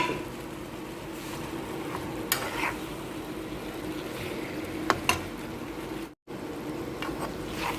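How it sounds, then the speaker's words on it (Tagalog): Chicken, potato and bitter gourd are stirred in a sizzling pan, with steady frying hiss and occasional scrapes and clinks of a utensil against the pan. "ihalo ko yung gulay na patatas at saka ampalaya guys"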